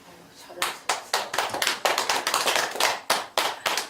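Applause from an audience at a Buddhist temple talk, a close, uneven patter of clapping hands that starts after a brief quiet moment and swells into steady bursts with small dips, carrying on to the end.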